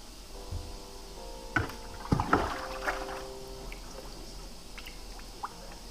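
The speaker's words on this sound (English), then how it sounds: "I can pour the water in faster" Tap water is poured into an aquarium tank over sand, a soft trickling and splashing with a few small sloshes, fairly quiet and close.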